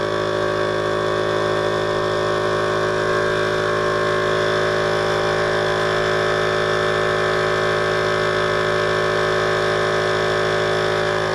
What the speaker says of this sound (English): I'm going to start the wine pump. It's going to suck wine up into this bottle.